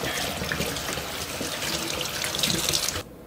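Tap water runs steadily into a sink while a freshly caught trout from ice fishing is rinsed, a close, continuous splashing hiss that cuts off abruptly at the end.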